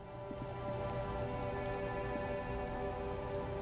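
Steady rain falls in the video game Disco Elysium, a constant even patter with a faint hum underneath, no voices present.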